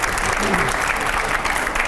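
A studio audience at a televised political interview applauds in a steady, dense burst of clapping throughout.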